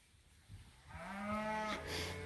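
A single cow in a farm paddock lets out a long rising moo, moderately near and alone after a brief rustle, under a faint outdoor background.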